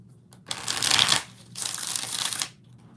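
Two bursts of tarot card shuffling, each a riffling rush lasting under a second, separated by a short pause, close and fairly loud.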